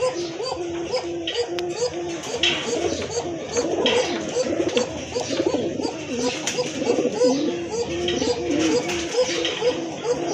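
Many pigeons coo together in a dense, continuous chorus of throaty, rolling calls, close and fairly loud throughout.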